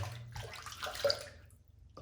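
Water poured into a shaving soap tub, a short close splash and trickle that fades out after about a second and a half.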